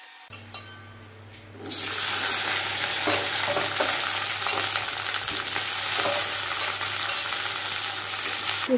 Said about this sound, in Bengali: এই যে ভেন্ডিগুলো ভাজবো আর সাথে রুটি বানাবো ছেলের জন্য